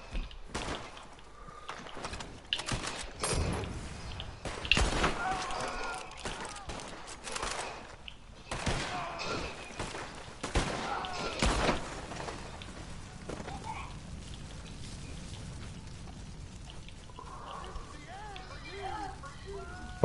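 Gunfire in the video game Red Dead Redemption 2 cracks out in sharp, irregular shots and short volleys over the first dozen seconds, with people talking over the action before it quiets.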